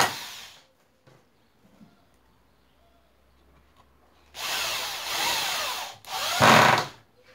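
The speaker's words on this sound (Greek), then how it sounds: "Βιδώνουμε 6 βίδες το ένα, 6 βίδες το άλλο" Power drill driving screws into wood while assembling a homemade football goalpost, two loud sustained bursts of whirring near the end after a quiet stretch, with a short burst at the start.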